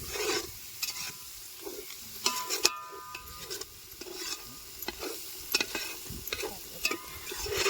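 Masala, onion, tomato and coriander fry in oil for a chicken biryani, a close crackling sizzle broken by frequent scraping stirs and spoon knocks against the pot, with no talking.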